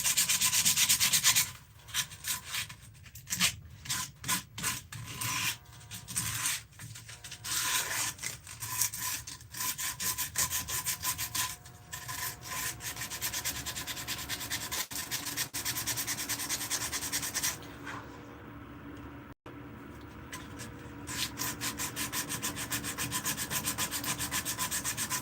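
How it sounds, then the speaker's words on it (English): Metal is sanded by hand on a forged spoon, a continuous rasping scrub with rhythmic back-and-forth strokes, close and fairly steady over about twenty-five seconds, with brief pauses and no talking. "I'm actually going to do some sanding"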